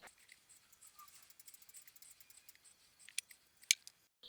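Quiet, crisp snips of scissors cutting the tag end of butcher's string tied around a porchetta, a few soft clicks followed by two sharper cuts near the end, close and faint.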